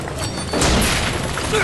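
A sudden heavy boom from bombing in BioShock Infinite hits partway through, followed by a rumbling, crackling wash of explosion noise.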